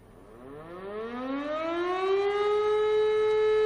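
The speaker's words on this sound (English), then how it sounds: "fire station with working siren" A fire station siren in the Farming Simulator 22 video game winds up from a low growl into a loud, sustained wail that climbs and then holds steady near the end.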